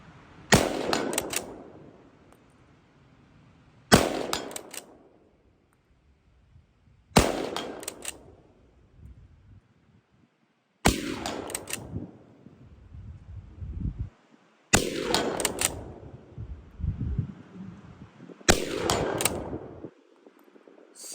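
Six loud, close gunshots from a Swiss K31 straight-pull rifle, spaced several seconds apart as the bolt is cycled between rounds, each crack ringing out with a decaying echo.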